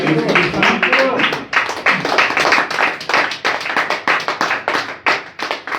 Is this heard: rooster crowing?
no